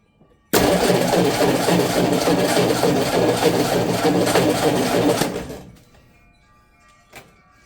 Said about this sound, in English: See how she cranks over